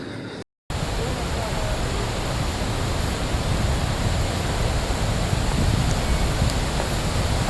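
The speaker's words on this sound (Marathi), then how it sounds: "आणि खाली उतरेल तसं धबधब्याचा आवाज वाढत जातो" A waterfall at Thoseghar roars up close as a dense, steady wash of broadband noise, loud and unbroken apart from a brief dropout near the start.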